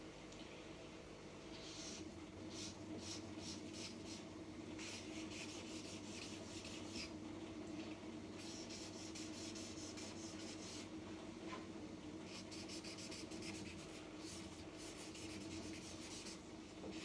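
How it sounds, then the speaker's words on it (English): Felt-tip markers rubbing and scratching across the paper surface of a handmade piñata, a steady close rasp made of repeated quick strokes that continues for the whole stretch without talk. "I'm using markers here because it's quite quick."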